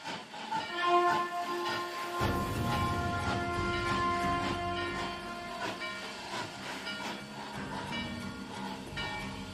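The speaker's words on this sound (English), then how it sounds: "That ain't no ordinary train." A train rolls past with a continuous rumble, hiss and clattering of wagons, holding a sustained loud roar throughout with tonal whine layered on top.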